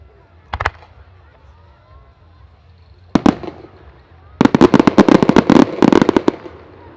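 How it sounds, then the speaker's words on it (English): Titanium salute chase-ring fireworks at a European display at the Abingdon Firework Festival: one early bang, a short burst, then a rapid rolling string of sharp loud reports chasing one after another, with distant crowd noise between. "now a very special titanium salute chase rings. And these are actually going to be bangs chasing round in the ring"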